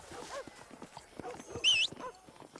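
Hooves clip-clop at a steady walking pace in Red Dead Redemption, moderately close, with a brief high whinny-like squeal midway and faint voices underneath.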